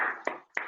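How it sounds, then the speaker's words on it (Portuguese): Applause arriving over online meeting microphones at a virtual lecture on administration, a few faint, compressed claps with two sharp hand strikes standing out briefly. "nós abríssemos o microfone para uma salva de palmas ao professor Francisco Gomes de Matos"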